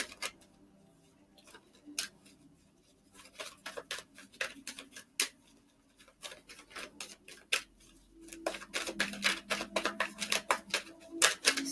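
Tarot cards being shuffled up close: irregular crisp riffling clicks and flicks, sparse at first, then denser and faster bursts near the end, with no talking.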